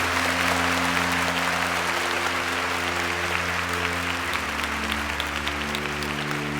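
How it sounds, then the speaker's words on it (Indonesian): A long, steady round of audience applause closes a wayang orang theatre performance, dense clapping that holds at full strength over a low sustained tonal hum. "Pertunjukan berakhir dengan tepuk tangan panjang."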